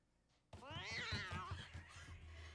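A cat lets out a sudden drawn-out meow in a horror film jump scare, loud and near after a quiet moment, followed by a low rumbling tone from the soundtrack.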